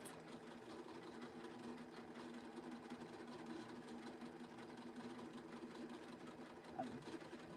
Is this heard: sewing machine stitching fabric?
yes